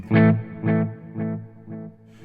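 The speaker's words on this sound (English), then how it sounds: "let's have now just a sensible amount of reverb and the time about there" An electric guitar runs through an EarthQuaker Devices Dispatch Master reverb pedal set to modest reverb, four struck chords fading one after another, each softer than the last, with a gentle tail.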